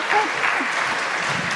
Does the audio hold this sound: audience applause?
yes